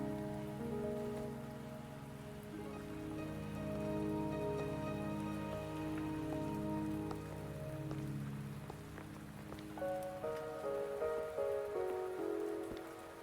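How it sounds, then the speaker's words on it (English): Steady rain patters on a surface in a quiet, soft wash, with gentle sustained musical tones layered over it and a few brighter notes near the end. "Are you trapped here by the rain?"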